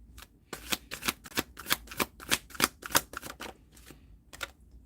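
A deck of tarot cards is shuffled in a quick run of crisp riffling snaps and flicks, close and fairly quiet, with a short pause before a final flick.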